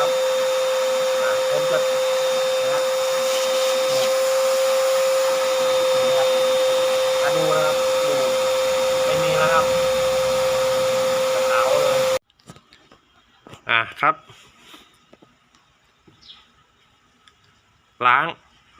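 A vacuum cleaner sucks dust from the air filter of a Honda City car, a steady loud whine and roar for about twelve seconds that then cuts off, followed by scattered clicks and handling noises.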